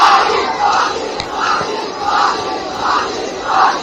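A street crowd of protesters in Badlapur shouts in rhythmic chanting bursts, roughly every three quarters of a second, a loud, close mass of voices repeating the same cry over a constant roar.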